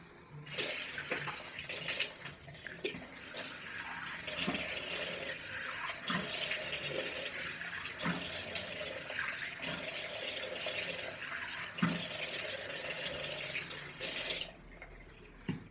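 A tap runs steadily into a basin during face washing, close and continuous, with occasional splashes and knocks as hands move through the water, then the flow stops near the end.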